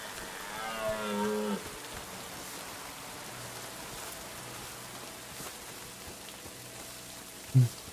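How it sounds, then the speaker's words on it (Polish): Soft, constant rainfall in Kingdom Come: Deliverance II patters as a faint background wash, while a cow moos briefly early on and a short thump sounds near the end. "Jest ten deszcz, nic nie widać ogólnie, nie? Skudny jest ten deszcz."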